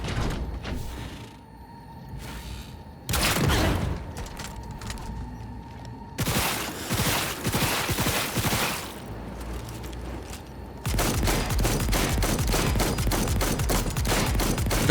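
Video game gunfire comes in loud rapid bursts and sustained automatic volleys, with brief pauses and mechanical clanks between them and a constant hum underneath.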